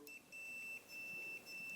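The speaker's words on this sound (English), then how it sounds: "hear that beeping?" Continuity tester beeping while checking a grounding wire, a faint high-pitched electronic tone sounding in short repeated bursts with brief gaps.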